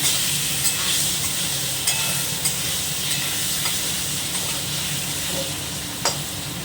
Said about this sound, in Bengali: আলুগুলো নেড়ে ঢাকা দিয়ে দিলাম।